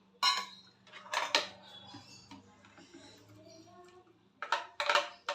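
Mango lassi is scooped into a container box with a few sharp clinks and taps of utensils against the dish, coming in short bursts with quiet handling between them.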